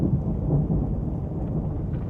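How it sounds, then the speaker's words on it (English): A heavy rain and thunder sound effect: a deep, continuous rolling rumble layered over dense rainfall, loud and unbroken throughout with no speech. "I hear the sound of an abundance of rain."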